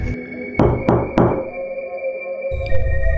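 Three knocks rap on a room door in quick succession, close and sharp, spaced about a third of a second apart against a quiet, humming interior.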